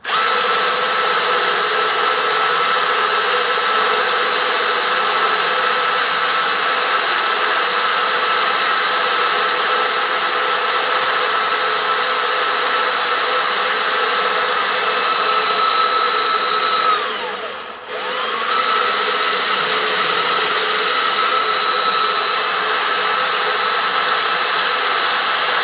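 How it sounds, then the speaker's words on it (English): A power drill boring through glass whines loudly and steadily at full speed, close by, with a brief dip in pitch and volume near the end before resuming. "we're going to commence drilling"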